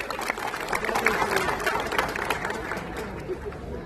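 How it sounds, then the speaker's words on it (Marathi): A crowd claps at a political rally during an MLA's speech, steady dense applause that continues throughout with a murmur of crowd chatter mixed in. "त्यांच्यासाठी आपण जोरदार टाळ्या वाजवल्या"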